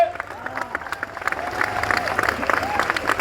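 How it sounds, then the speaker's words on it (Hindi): An audience at a training convention claps together, a steady crackling wash of applause lasting a few seconds with some voices mixed in. "जोरदार ताली बजाइए आप अपने लिए"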